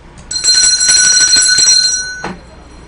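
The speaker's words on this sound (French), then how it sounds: "je vais bailler un coup de cloche à tout le monde qui est dans la diaspora" A bell rings loudly and insistently for about two seconds in a continuous bright trill, then stops abruptly, with no speech over it.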